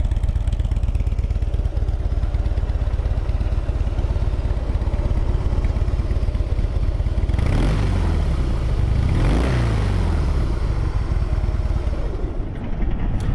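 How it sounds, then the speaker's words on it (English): A Harley-Davidson Heritage Softail Classic FLSTC motorcycle engine runs close by with a steady, loud, lumpy idle, swelling briefly twice as the throttle is blipped before settling back, with no voices. "Engine's real smooth, nice and quiet,"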